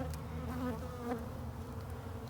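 Bees buzz steadily around an old, dark-combed beehive built inside a wheelbarrow during a bee removal, a close, continuous drone with no talking.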